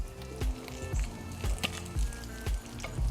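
Butter spooned over a frying egg in a pan, a light sizzle broken by regular low thumping knocks about every half second.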